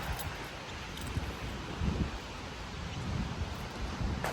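Steady outdoor wind buffeting the microphone, with low rumbling gusts and a soft rustle throughout; no voices.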